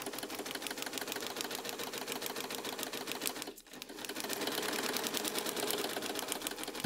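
A sewing machine lock-stitches a quilt block, its needle clattering in a rapid, even rhythm close by. The stitching stops for a brief moment midway, then runs on steadily with no voices.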